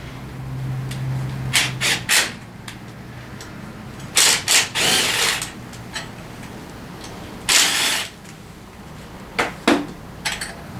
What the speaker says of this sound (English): You need an 8mm wrench. We'll go ahead and just grab that and take this off.